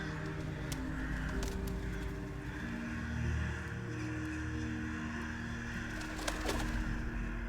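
Birds calling in the video game We Were Here Forever, scattered chirps and coos over a constant low ambient drone, with sharp bursts of noise here and there.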